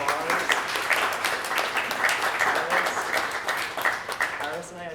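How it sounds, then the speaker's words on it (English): A crowd at a circular economy panel forum breaks into a sustained round of applause, dense steady clapping filling the room for several seconds before easing off at the end, with some voices mixed in. "massive round of applause"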